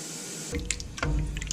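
Water from a container is poured into a cheeseburger soup pot already holding bouillon cubes, a short splashing rush that starts about a third of the way in and runs unevenly to the end.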